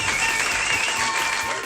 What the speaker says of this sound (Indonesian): Mari kita berikan tepuk tangan untuk Searching.